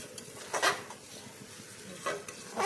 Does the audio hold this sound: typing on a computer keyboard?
no